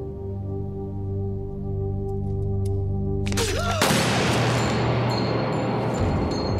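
Heavy gunfire erupts in a zombie-drama firefight, a dense loud burst of shots and booms that cuts in suddenly over a low sustained musical drone and continues as a broad roaring barrage.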